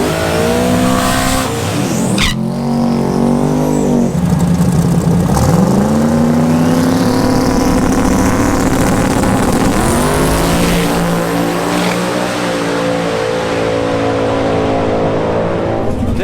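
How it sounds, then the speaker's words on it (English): A race car with a new turbo setup launches hard at a drag strip during LS Fest, engine revving loud and close with rising pitch through gear changes, tires squealing as it pulls. "Like this first time for that car with the new turbo setup at the track."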